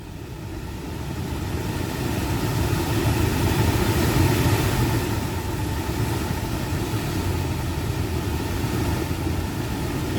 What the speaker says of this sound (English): There's the motor going.